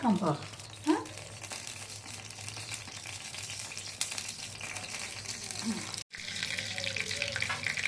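Mustard seeds and cumin dropped into hot oil for a tempering, crackling and sizzling steadily at low volume with faint clinks and rustles, while a voice talks over it.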